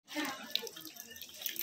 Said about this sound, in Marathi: हे दुसऱ्या कुंडातलं पाणी होतं